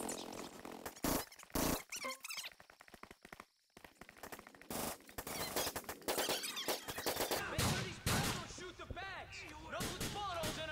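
Gunfire during a heist in GTA IV: loud bursts and rapid volleys of shots in a busy game scene, with voices breaking in among the shooting.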